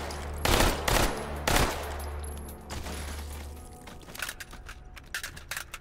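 Full-auto gunfire in H3VR after the selector is flipped to automatic: loud, tight bursts in the first two seconds, then scattered lighter shots and clatter trailing off.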